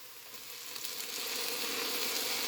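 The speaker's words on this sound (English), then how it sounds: "we're gonna let these saute up for a few minutes" Vegetables sautéing in a pot for a vegetable lasagna soup, giving a steady broadband sizzle that grows slightly louder and denser partway through, with no talk.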